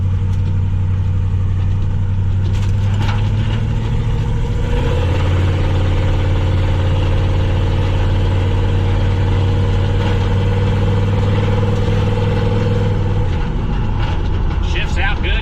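A car engine runs while driving, a loud steady drone that drops and climbs in pitch around two gear shifts, close and continuous with someone talking over it.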